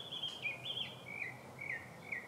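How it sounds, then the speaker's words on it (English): A small bird sings nearby, repeating short high warbling phrases every fraction of a second over quiet background hiss. "Listen to that bird singing right here."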